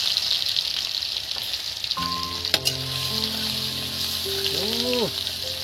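Garlic dropped into spices frying in goat fat, in a pan for ghugni, gives a steady crackling sizzle throughout, with a few clinks and short tonal whistles partway through and no talking.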